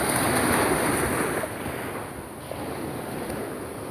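Ocean waves roll onto the eroding beach at Playa Salguero in Santa Marta, a loud broad wash that eases after a crest into a steadier hiss, with some wind noise.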